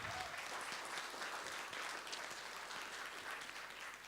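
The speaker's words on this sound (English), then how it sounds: "So again, a round of big applause to Professor Maheran." An audience claps after a speech by a professor at a World Philosophy Day event, a dense wash of applause that holds steady and sounds a little distant and soft.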